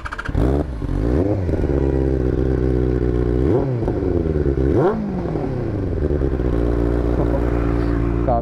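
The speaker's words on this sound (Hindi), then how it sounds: "देखो ये है पूरी बेनेली 600 जीटी। एक बार आपको इसका एग्जॉस्ट भी सुना देता हूँ अच्छे से।" A Benelli 600GT motorcycle revs through its exhaust, a loud, close engine rising and falling in several throttle blips over a rumbling idle, with no one talking.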